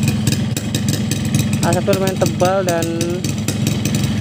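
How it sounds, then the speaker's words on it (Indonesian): A cold two-stroke motorcycle engine running on Esso Low Smoke oil idles roughly with a rattling knock, a steady buzzing drone under a voice that talks over it. "Dan untuk suara mesin juga kasar ya teman-teman ya, ngelitik banget di mesin"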